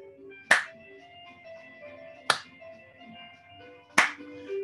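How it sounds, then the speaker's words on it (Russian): Three sharp hand claps, spaced evenly about two seconds apart, ring out alone over soft sustained tones during a guided healing relaxation session. "Три хлопка, на третий хлопок все строят антенны"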